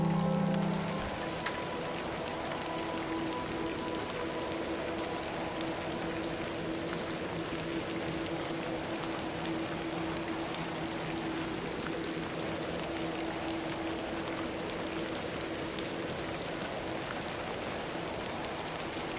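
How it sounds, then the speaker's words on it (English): Steady rain falls throughout a scene in the horror adventure game The Excavation of Hob's Barrow, a continuous close patter and hiss with a low sustained hum beneath it and no talking. "A little rain is no bother."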